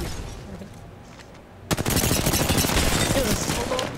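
Gunfire rings out in the video game Apex Legends. It starts suddenly after a quiet stretch, then keeps going as loud, dense rapid bursts to the end.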